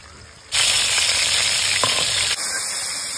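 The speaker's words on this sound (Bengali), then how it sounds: "চিংড়িগুলো সব ভাজা হয়ে গেছে" Giant freshwater prawns, rubbed with salt and turmeric, drop into hot oil and burst into a loud, steady sizzle that holds for a couple of seconds before it abruptly settles to a lighter crackle.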